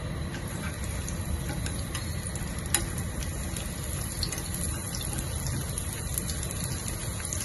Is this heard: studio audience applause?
no